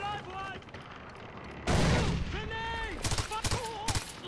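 Gunfire in the video game Far Cry 4: a sudden loud burst of shots and booming blasts midway, followed by scattered sharp reports, with voices and game sounds around it.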